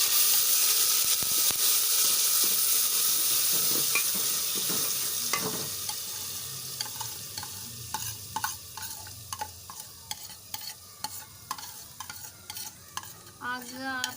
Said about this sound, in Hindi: हमारा घी जो है वो गर्म हो गया। अब इसमें हम डाल देंगे अदरक, लहसुन और हरी मिर्च का पेस्ट।